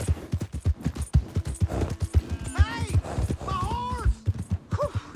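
In Red Dead Redemption 2, horse hooves clip-clop in a steady rhythm up close, mixed with whinnies and snorts, while voices talk over them.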